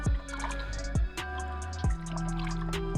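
Coolant bubbling and gurgling as air is bled from a 2016 Dodge Journey SXT cooling system while a hose is squeezed, with distinct glugging drips recurring about once a second, close by and fairly quiet.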